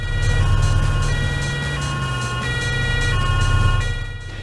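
Police car siren from the London Racer PlayStation racing game, a steady two-tone wail cycling over a continuous low engine drone, loud and unbroken with no talk.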